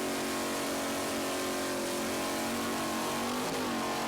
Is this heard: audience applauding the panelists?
no